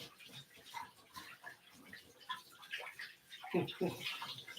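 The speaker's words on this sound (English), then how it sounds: "Get your hands nice and washed off." Hands lathered with soap are rinsed under running tap water in a kitchen, a soft, irregular splashing and trickling that grows busier toward the end, fairly quiet and close.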